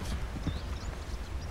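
Wild horse in Red Dead Redemption 2 clip-clops with quick, close hoofbeats on the ground, accompanied by a brief faint whinny, with no talking.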